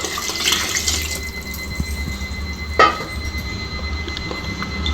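Water pours steadily into a pot of rice for mushroom biryani, a continuous splashing rush with a brief clunk partway through, close and even throughout.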